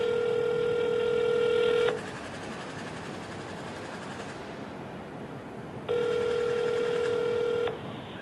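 A phone call placed to local police in China produces two long electronic ringback tones separated by a pause of a few seconds, clear and steady over a faint background hiss.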